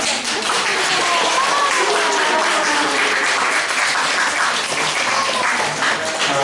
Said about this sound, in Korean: 힘차게 박수 한번 하도록 하겠습니다